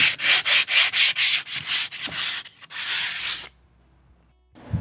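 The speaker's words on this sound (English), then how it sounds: "I got me a 150 grit, and I'm just gonna start sanding all the edges" Hand sanding with 150 grit sandpaper along the edges of a wooden bathroom vanity base, a rhythmic series of close, loud rasping strokes followed by a longer stroke, then a pause of near silence.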